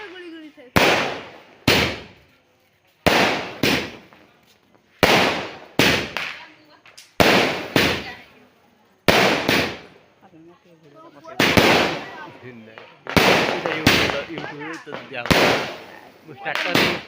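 Diwali firecrackers go off in a village, a dozen or so loud, sharp bangs spaced a second or two apart, each with a short crackling tail, while voices talk in between.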